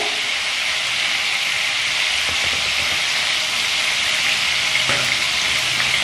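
Diced potatoes sprinkled with salt frying in hot oil, a loud steady sizzle and hiss throughout with faint crackles, continuous and close, no talking.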